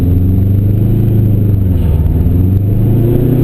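A 2011 Subaru Forester S engine accelerating hard on a race circuit, a loud close in-cabin drone and rising rumble held throughout, with no talk over it.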